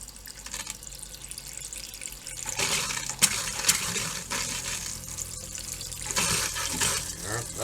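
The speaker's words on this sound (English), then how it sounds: "we're going to do the hot water on the bathroom sink" Hot water runs steadily from a bathroom sink tap in a travel trailer, a continuous splashing hiss that swells louder partway through, with a few clinks.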